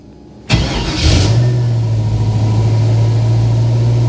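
An LS V8 engine in a 1957 Chevy Bel Air cranks and catches after a brief quiet moment, then settles into a loud, steady, deep idle that holds to the end.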